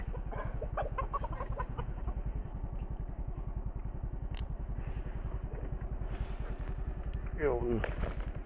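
Chickens cluck and cackle close by over a constant low motor drone, with people talking intermittently in the background.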